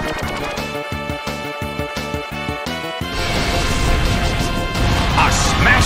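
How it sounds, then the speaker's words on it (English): A smashing-blow attack in Pokémon Battle Revolution lands as a loud crunching impact that cuts off a pulsing battle-music loop. A dense, roaring wash of noise follows and swells near the end. "A smashing blow! That dealt some massive damage!"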